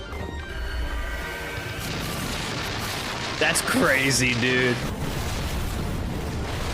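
Rumbling blasts and crashing booms from an anime battle scene roll on continuously, with a brief whooshing, screechy effect in the middle and a voice reacting over it.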